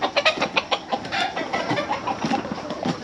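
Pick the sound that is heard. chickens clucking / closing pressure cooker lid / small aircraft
chickens clucking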